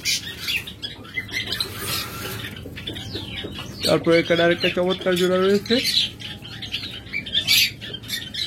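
Caged pet lovebirds and budgerigars chirp and squawk nearby in bursts, with someone talking over the birds throughout.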